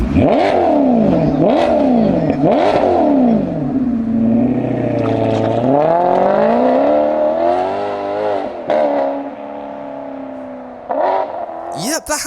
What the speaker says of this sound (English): it's no secret that Maserati sound absolutely incredible in real life, and the GranTurismo is no exception